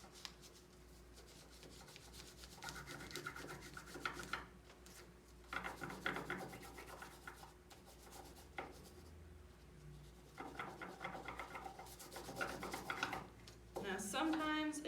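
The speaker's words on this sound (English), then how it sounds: "you're going to take the long side of the crayon and gently rub onto your nature" A crayon is rubbed on its long side across paper laid over a nature item, producing quiet, scratchy back-and-forth strokes in uneven bursts with pauses, and a voice briefly speaks at the end.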